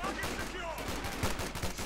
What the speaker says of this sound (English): Browning automatics really doing a nasty number there, and we also got shots going off